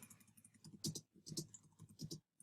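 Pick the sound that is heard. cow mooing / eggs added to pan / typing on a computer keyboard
typing on a computer keyboard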